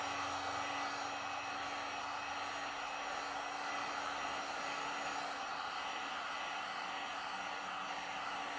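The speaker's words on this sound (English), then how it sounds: "you can do that with a heat gun to speed up the curing process" A heat gun blows steadily to speed the curing of a Turtle Wax acrylic/ceramic tire coating, a loud, unbroken whooshing hum that holds even throughout, with no voices.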